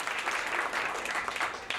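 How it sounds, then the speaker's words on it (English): Audience applause at an 85th Sai Baba celebration in 2010, a steady dense patter of many hands clapping, fairly distant and soft, heard alone without talk. "deserves another round of applause"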